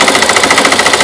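A Polish Lucznik sewing machine stitching at a fast, even mechanical chatter, loud and close, running alone without voices.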